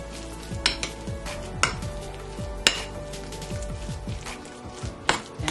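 A baked yam filling is mashed and stirred in a bowl with soft, squelchy scraping and occasional sharp clinks of a utensil against the dish, fairly quiet and close, with no talking.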